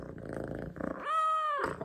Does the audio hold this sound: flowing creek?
no